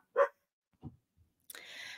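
A few short excited barks from pet dogs, spaced apart, with a whimpering, agitated noise at the end, fairly close.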